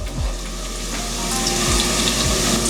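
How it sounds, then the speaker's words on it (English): Bacon frying crisp in a pan, a loud, continuous sizzle and crackle with a few low thumps, close up and without voices. "This bacon gets really crispy once you get it all cooked up right."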